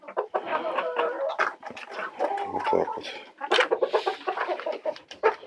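Sick chickens cough, sneeze and wheeze in a poultry house, giving a dense run of short raspy bursts and clucks from several birds nearby. Someone says a few words briefly over them.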